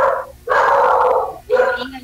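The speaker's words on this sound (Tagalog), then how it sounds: "Nagwawala yung aso." A dog barks and yelps indoors in a few sharp, loud bursts close by, with short pauses between them.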